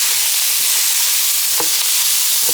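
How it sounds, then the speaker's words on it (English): Pasta fagioli soup with celery and parsley is stirred in a pot, giving a soft continuous scraping swish with a couple of light clunks against the pot's side. "Stir that really good."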